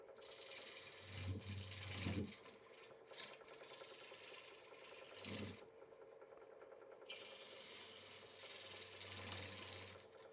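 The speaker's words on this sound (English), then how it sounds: "I'm going to try and do some of this with a skewed scraper." Skewed scraper cutting an 18 inch wooden tray on a lathe, faint rasping and scraping in several short bursts over a steady whining motor hum, with quieter gaps between cuts.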